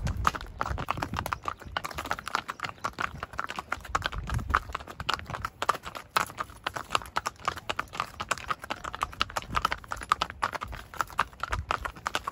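Horse hooves trot in a quick, even clip-clop rhythm during a ride through Nuwara Eliya, Sri Lanka, close and steady over faint outdoor ambience, with no talking.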